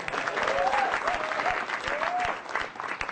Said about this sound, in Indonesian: Dan tepuk tangan dulu buat saya yang ada di sini.